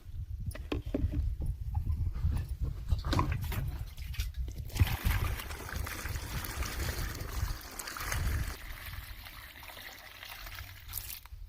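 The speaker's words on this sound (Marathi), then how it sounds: "आता पूर्ण पंप आपल्याला भरून घ्यायचे" Dashparni extract and water are poured into a crop sprayer pump tank for a second spraying on a chickpea plot outdoors, giving a steady splashing, gurgling flow with occasional knocks and handling sounds.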